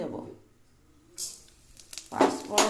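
Panch phoron spices sizzle in hot oil in a wok, with two brief bursts of hissing crackle and quiet gaps between them.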